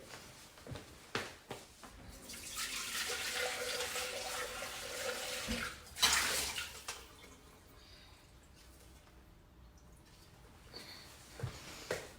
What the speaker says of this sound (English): So I'm just gonna rinse my bowl really quick